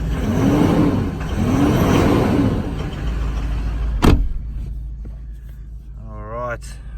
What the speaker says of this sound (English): And just give it a couple of revs for you so you can hear it.